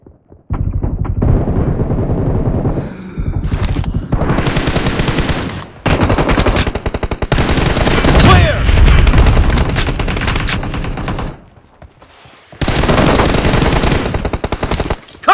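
Rapid automatic gunfire rattles in long loud bursts in a shooting video game, with a few short pauses between volleys and a near silent gap before the final burst.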